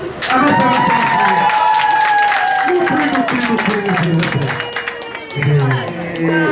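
A crowd claps steadily throughout while someone talks loudly over the applause.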